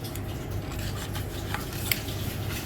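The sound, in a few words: scraping tool clearing pulp from an Angel twin-gear juicer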